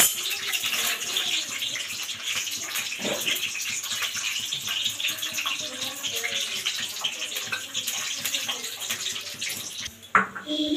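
Cold water pours steadily over freshly boiled chow noodles in a home kitchen, a continuous splashing rush that ends with a brief clatter near the finish.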